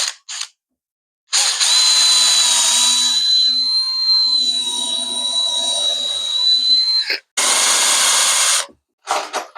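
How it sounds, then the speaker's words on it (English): A power drill driving screws into pallet wood whines in sustained bursts, one long run of several seconds between short pauses, loud and close, with no talking. "Hold that down, make sure that one's roughly in place, and throw a drill in there."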